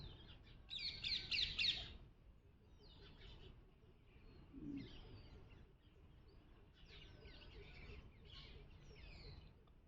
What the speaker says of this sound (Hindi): पंछियों की आवाज सुनो